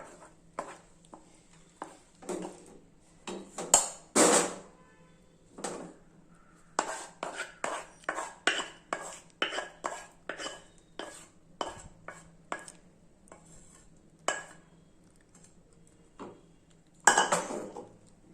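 Metal utensils and steel vessels clink and clatter close by in irregular bursts, with a few louder clangs and quiet gaps between them, as tempered tomato chutney is transferred into a vessel.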